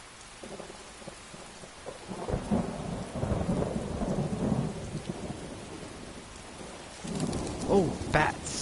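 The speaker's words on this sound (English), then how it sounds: "This precipitation, it must stop." Heavy rain pours steadily in the Skyrim game world, with rolling thunder rumbling through the downpour and a louder crack near the end; a voice speaks over the storm.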